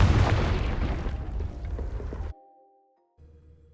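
A Confringo fire spell bursts in Hogwarts Legacy with a loud, broad blast that rumbles and crackles for about two seconds, then cuts off abruptly to quiet tonal game ambience.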